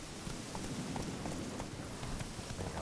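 A horse in The Witcher 3 game clip-clops at a steady quick gait, a soft repeated hoof rhythm under a dense, hissy game ambience.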